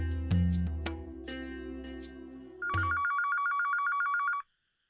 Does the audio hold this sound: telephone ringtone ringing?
yes